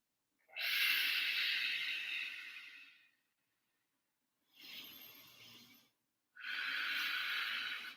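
Slow, deep breathing during a stretching exercise for core and flexibility: three long airy breaths, close and clear, each lasting one to two seconds with silent pauses between them.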